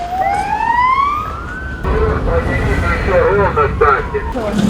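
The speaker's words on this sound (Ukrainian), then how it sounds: "усі учасники дорожнього руху справно пропускали автомобілі з увімкненими спецсигналами" An emergency vehicle siren wails with rising sweeps as it moves through city traffic in Dnipro, loud and close, then gives way to engine and road noise with a few short siren bursts.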